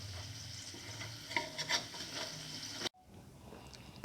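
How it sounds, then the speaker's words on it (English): Cottage cheese, fenugreek leaf and chickpea flour fritter mixture fries in a pan with a steady sizzle and stirring scrapes, then drops abruptly to a quieter sizzle. "the new mixture can be put in and made to fry until all the"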